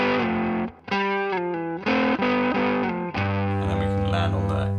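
Distorted electric guitar playing a dyad lick from a song, loud sliding two-note phrases that shift position, then a sustained low chord ringing out at the end.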